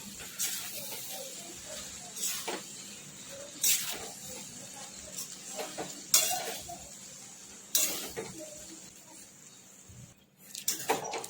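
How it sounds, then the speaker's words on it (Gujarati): Cooked chana pulao rice with chickpeas being gently mixed by hand in a pot: soft rustling and scraping stirs with several sharper clinks against the pan, close and fairly quiet, no talking. "હવે પોલા પોલા હાથે આપણે મિક્સ કરી લઈશું એને"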